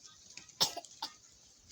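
A single short cough close to the microphone, followed by a softer throat sound, in an otherwise quiet room.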